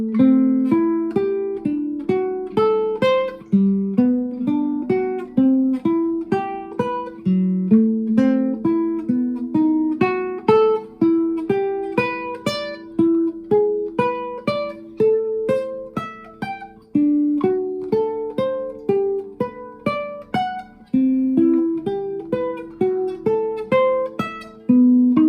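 Clean jazz guitar plays a steady arpeggio solo over jazz chords: a continuous stream of plucked single notes moving up and down, close and even, with no talking.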